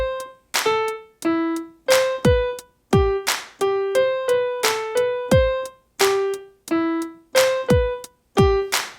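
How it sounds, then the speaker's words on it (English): Piano playing a chord pattern slowly, with separate plucked notes and chords landing in a steady rhythm alongside a simple drum beat of punchy low kicks, clear and isolated. "So if I play that slowly with a drum beat"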